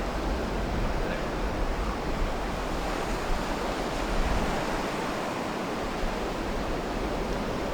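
Steady surf rolls onto a sandy shore with continuous broadband wash and occasional wind buffeting, a constant moderately loud roar with no distinct pauses between waves.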